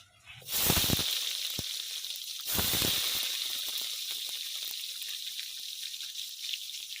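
Onions dropped into hot mustard-style frying oil already seasoned with bay leaf, dried chilli, cumin and radhuni spices, after fish was fried in it, erupting into a loud close sizzle that settles into a steady crackling hiss, with a second surge midway.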